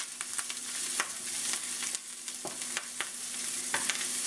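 Ginger and garlic hit hot stir-fry oil in a pan for beef and broccoli, a soft steady sizzle broken by several sharp scraping stirs, close and fairly quiet with no talk.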